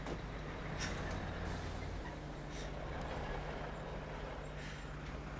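Several trucks maneuvering together in a staged TV drama scene, a steady low engine drone with air-brake hisses and brief higher bursts over a constant rumble, moderately loud and continuous throughout, with no talking.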